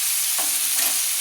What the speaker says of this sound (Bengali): মশলাগুলো একসঙ্গে ভালো করে আমি নেড়ে নিচ্ছি